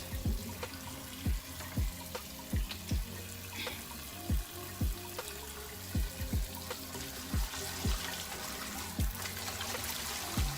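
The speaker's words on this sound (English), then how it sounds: "Just wash that skin, because you don't know who's been touching on it." Pineapple skin is rinsed under a running tap, a steady splashing stream with a repeating pattern of low gurgles and drips, nearby and with no voices.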